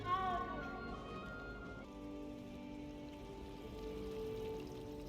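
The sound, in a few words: cat meowing in the video game Hogwarts Legacy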